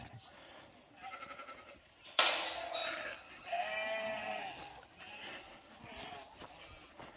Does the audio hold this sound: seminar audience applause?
no